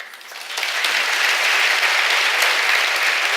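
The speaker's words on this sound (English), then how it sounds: "you shouldn't clap for yourself like that" Audience applause in a conversation event hall, rising after a quiet start into sustained, dense clapping from a large crowd that holds steady to the end.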